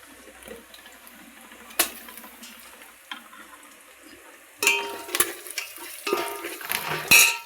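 Hot cooked dal being stirred in a pan on the stove, with scraping and sloshing strokes, quiet at first and then louder, busier stirring in the second half.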